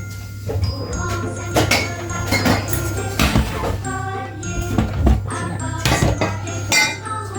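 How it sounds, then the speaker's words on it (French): Metal clinks, clatters and jingles of a saucepan and kitchenware being handled up close while making muffins, with a steady electrical hum underneath. "Et maintenant, je vais venir prendre une casserole."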